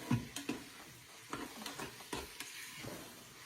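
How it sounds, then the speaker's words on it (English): Quiet sizzling of meat browning in a soup pot, broken by a few soft clanks and stirring scrapes, close and fairly faint. "you hear the sizzle?"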